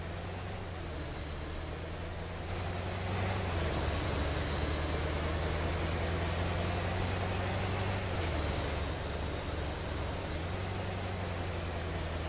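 MAZ truck driving in Euro Truck Simulator 2 on Italian roads: a constant loud diesel engine drone with shifting revs and brief dips as it changes pace, no voices over it.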